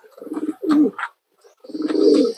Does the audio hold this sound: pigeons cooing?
yes